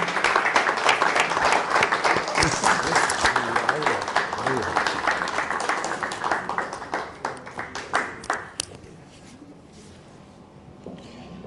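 Loud applause fills the room as a political gathering on sport and Justicialismo welcomes its speakers, then fades into scattered claps and quiet over the last few seconds.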